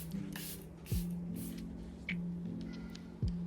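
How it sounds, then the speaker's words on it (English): Short hissing bursts of a makeup setting spray bottle, several quick spritzes in a row over a low steady hum, close and fairly loud. "Now again I'm gonna apply this setting spray"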